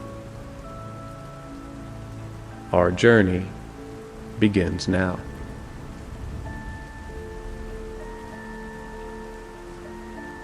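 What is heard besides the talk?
rain falling on a window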